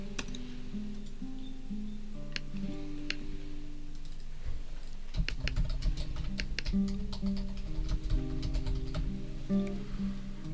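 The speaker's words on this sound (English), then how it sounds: "He's still typing." Keys clack on a computer keyboard in irregular bursts, fairly quiet, over a soft background hum.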